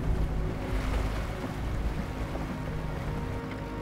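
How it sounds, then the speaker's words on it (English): All-terrain vehicle fording a flooded river during the spring thaw in Kamchatka, Russia: a loud continuous roar of engine and rushing water with wind buffeting, steady throughout. "these vehicles are supposed to float, but with the rising waters"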